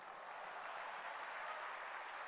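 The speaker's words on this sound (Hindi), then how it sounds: "ताली जब तक बजाना जब तक गुरुदेव का आशीर्वाद ना मिल जाए" Steady, dense clapping from an audience at a Jain religious discourse led by Sudha Sagar Ji Maharaj, continuous and even throughout with no voices on top.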